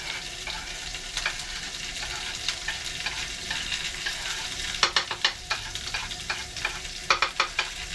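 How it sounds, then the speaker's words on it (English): Potatoes and onions fry in a pan inside a small cabin, giving a constant soft sizzle with sharper crackling pops and spatters that cluster toward the end, close and fairly quiet with no talking. "the cabin has a wonderful aroma of frying potatoes and onions"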